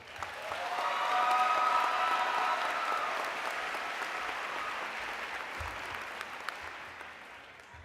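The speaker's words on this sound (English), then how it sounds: "Please join me in giving her a great hand of applause" Convocation audience applauding a dancer in a large hall, broad sustained clapping that swells early and then holds steady at a moderate distance, with a faint whistle or cheer near the start.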